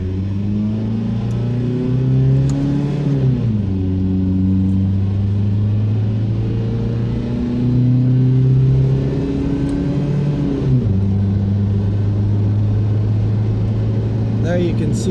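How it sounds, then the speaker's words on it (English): A 1.9L TDI diesel-swapped one-ton Dakota pickup with a GTC2262 turbo accelerates at full throttle, its loud droning engine rising in pitch, dropping at a gear change, then climbing again before a second shift, heard from inside the cab. "we're gonna do just an acceleration, more like full throttle here"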